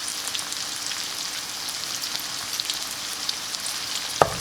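Onions sautéing in a pan with cumin seeds added, giving a steady, soft sizzle of frying close by, with one brief sharp clink near the end and no talking.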